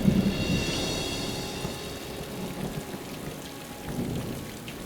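Steady rain pours down with a dense, continuous patter and no voices, holding even throughout.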